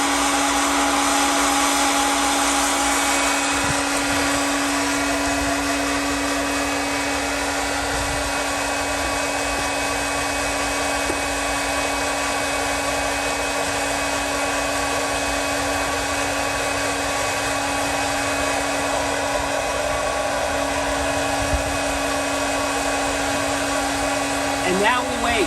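Steady, loud whirring hum of a popcorn popper's hot-air fan roasting coffee beans, running continuously and evenly for the whole stretch with a constant tonal whine.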